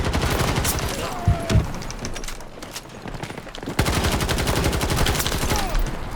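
Rapid bursts of automatic gunfire in Battlefield 2042, loud and close, chattering in long strings with a short lull and a couple of heavier thuds before the shooting resumes in full.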